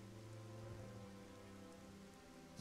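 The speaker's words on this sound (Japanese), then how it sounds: "冷たい雨が私を打つ音だけ。" Cold rain falls steadily as a sound effect in a live Japanese drama reading, a dense, even hiss of drops with a low rumble beneath and no voices.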